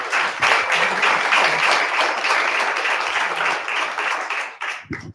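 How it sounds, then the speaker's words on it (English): Audience applause greets two guests at a business event, with loud, dense clapping sustained for several seconds before cutting off abruptly as a voice begins. "Could you give them both a round of applause?"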